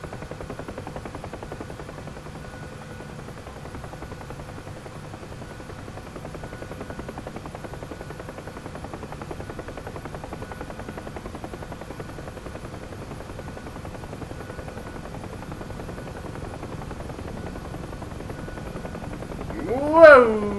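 A Huey helicopter in the flight game DCS gives a steady, low rotor and engine drone that holds evenly throughout, with a brief louder swell right at the end.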